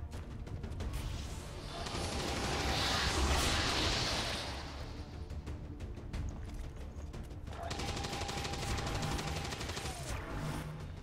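Sustained suppressive gunfire in XCOM 2 aimed at a trooper on a rooftop, a long rattling automatic burst with mechanical clanks, swelling louder midway and continuing steadily to the end.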